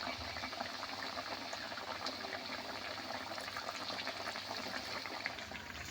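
Palm-fruit biscuit pitha deep frying in hot oil, a dense steady bubbling crackle with fine popping, even and constant throughout, fairly quiet and close, no speech.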